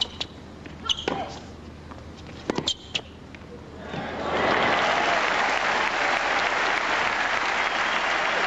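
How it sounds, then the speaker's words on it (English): Crowd applause at a 1995 Canadian women's singles tennis match, erupting loudly after a few sharp ball hits and swelling into sustained, dense clapping. "Even Monica claps for that one"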